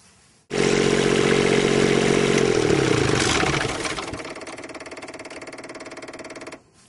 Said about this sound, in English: you want to turn the generator on and then let it run for a minute or two